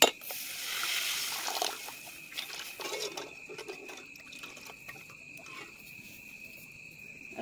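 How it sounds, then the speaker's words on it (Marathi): Water poured into a pan of egg curry cooking on the stove, a steady liquid splash and trickle that is loudest at the start and then fades into a softer, continuing gurgle. "आणि आता फक्त ह्याच्यात पाणी वतायचं."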